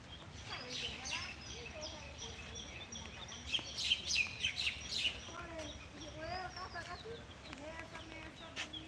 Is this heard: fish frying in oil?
no